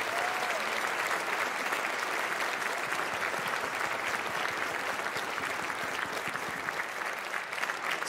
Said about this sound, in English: So can we please give everyone a tremendous round of applause?